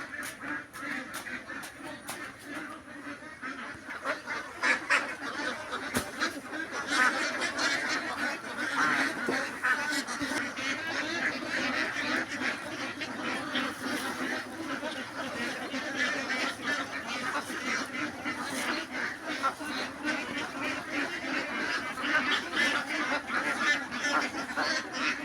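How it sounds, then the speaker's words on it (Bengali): A flock of two-month-old ducks on a duck farm quacks and honks continuously during feeding, a dense, loud chorus close by. "এই হচ্ছে আকাশ ভাই, যে হাঁসকে খাইতে দিচ্ছে।"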